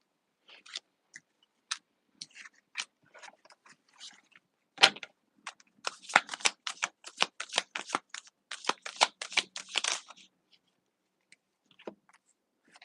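Quick crisp riffling bursts of cards being shuffled, sparse flicks at first, then a dense rapid run of snapping cards, close and clear with no talking.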